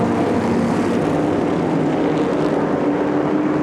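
A pack of 1955 to 1960 sports racing cars roars away from the start at Sonoma Speed Festival 2019, a loud, dense wall of engine noise sustained without a break.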